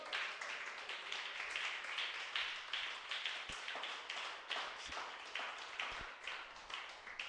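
A church congregation claps and applauds in praise during a Saturday fasting service, a steady dense patter of hands with a few sharper claps standing out, moderately distant and continuous throughout.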